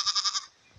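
A single close goat bleat, four quick wavering pulses fading out fast, outdoors on a farm as rain threatens.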